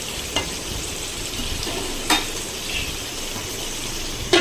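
A tomato, garlic and onion mixture sizzles steadily as it fries in a pan, with a few sharp scraping strokes of stirring at intervals, close and alone.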